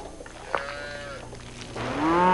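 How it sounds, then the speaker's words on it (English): Cow lowing in Australia, two long moos with rich harmonics, a shorter one early and a louder, rising moo toward the end, heard clearly with no talk. "This is a cow."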